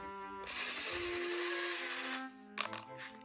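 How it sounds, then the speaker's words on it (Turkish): A toy drill from a 340-piece toy drill building set whirs steadily for about two seconds, a bright, buzzy motor whine, followed by brief clicking and rattling sounds; no one talks over it. "Matkap mı çalıştırıyorsun?"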